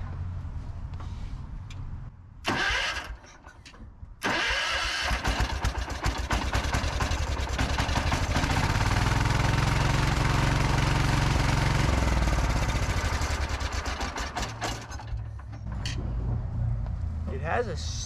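A riding lawn mower fitted with a larger-than-stock engine cranks, catches and settles into a steady, loud idle that runs for several seconds before easing back, with brief starter bursts at the start.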